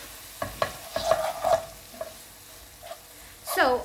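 Baked beans shakshouka with turmeric cooks in a pan, with a spoon scraping and stirring in close, scattered strokes over a soft, steady sizzle.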